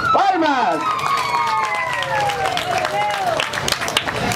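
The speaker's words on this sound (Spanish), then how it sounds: "¡Palmas!" Applause from an audience at a Botica Central prize draw event, steady clapping for about four seconds with a voice calling out over it.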